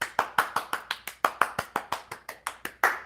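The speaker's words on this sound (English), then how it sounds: "Give yourself a round of applause" Hands clap about fifteen times in a steady, even rhythm, each sharp and close, coming from a single small group or one person, with no voices over it.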